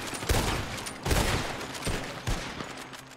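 Several players fire together in a Wild West roleplay game, with a burst of overlapping gunshots followed by a few more sharp reports spaced about a second apart, echoing briefly.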